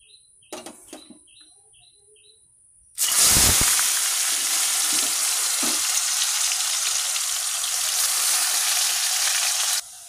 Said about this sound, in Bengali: এই যে আলুটা ভাজা হচ্ছে